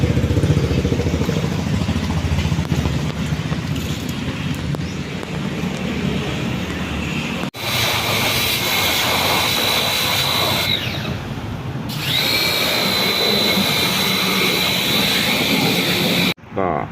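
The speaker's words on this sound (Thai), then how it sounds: "ทำความสะอาดเปลือกตู้แอร์ให้ครับ" Pressure washer spraying water to clean the evaporator housing of a 2019 Toyota Yaris Active air conditioner, a steady loud hiss with brief cutoffs where the spray stops and restarts.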